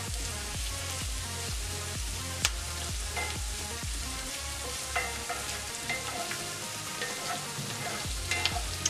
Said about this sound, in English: it's a stir fry, so you want to just keep stirring everything around.